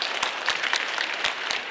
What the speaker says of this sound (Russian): такие же аплодисменты